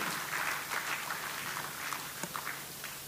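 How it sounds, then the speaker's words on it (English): Audience applause at a chamber of commerce business meeting, fairly faint and distant clapping that runs steadily throughout, with a few sharper individual claps. "Give a big applause to everyone who has signed this agreement."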